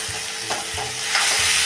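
Roasted eggplant and salt being stirred and sautéed in a pan for bharit, with quick scraping strokes over a soft sizzle.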